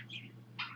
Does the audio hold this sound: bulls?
no